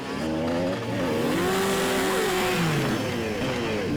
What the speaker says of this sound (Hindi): जिस तरीके से इसने बाइक का स्टंट किया है